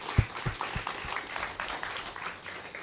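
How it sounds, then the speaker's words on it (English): A small audience at a mosquito experts' presentation gives a round of applause, a few distinct claps at first and then thin, scattered clapping. "Can we give them a round of applause?"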